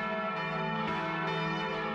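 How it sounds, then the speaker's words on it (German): Nine large church bells ring together at a monastery church on a feast day, making a dense, continuous, loud peal of overlapping tones. "45 Minuten läuten an diesem Tag die 9 Glocken."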